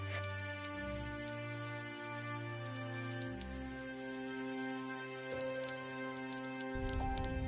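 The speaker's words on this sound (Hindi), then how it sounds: "लगातार होती बारिश ने गांव वालों को परेशान कर दिया।" Steady rain falls in a cartoon village scene, a continuous pattering hiss under sustained musical tones, growing louder and denser at the end.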